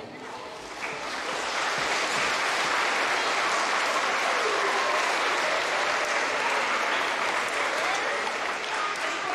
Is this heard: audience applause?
yes